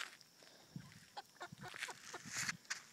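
Chickens cluck and squawk in short, scattered bursts while a dog chases them, the calls fairly close and lively over faint outdoor background, with brief rustling movement between the calls.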